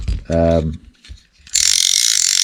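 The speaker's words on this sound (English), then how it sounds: "what these two reels do have in common is they're both very noisy reels" A short tone is followed by a pause, then a fly fishing reel's ratchet buzzes in a rapid, loud stream of clicks as line pulls out.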